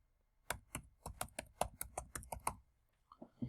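Rapid keystrokes on a computer keyboard while a variable name is typed, about a dozen crisp clicks in quick succession, close and fairly quiet, followed by a few softer clicks.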